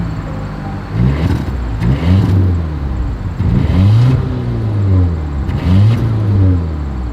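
A Volvo V90 wagon's exhaust revs repeatedly, each loud rising-and-falling engine surge close by, in bursts of roughly a second with a steady rumbling idle between.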